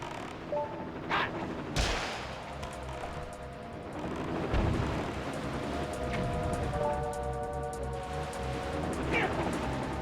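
Cartoon cannon battle in Zelda Wind Waker: a few sharp booming cannon blasts and explosions burst out over steady game music, with one heavy thud standing out midway and the rest moderately loud.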